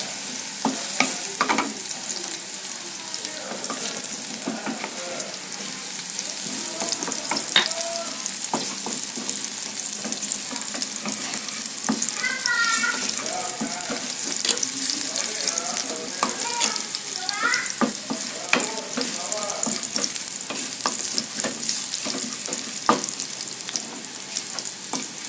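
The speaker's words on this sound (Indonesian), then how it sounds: "Kita oseng hingga wangi." Garlic stir-fried in a pan gives a steady, close sizzle for the whole stretch, broken by frequent spatula scrapes and light clatters against the metal, with no voices.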